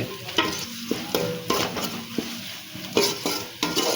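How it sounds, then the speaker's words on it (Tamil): Turmeric and small onions being sautéed in a pan for shallot rice, with a steady sizzle and repeated scraping strokes of a spoon against the pan, close and clear with no talking. "இந்த மஞ்சத்தூள் வாடை போகிறதுக்கு இன்னும் கொஞ்சம் நல்லா வதக்குவோம்."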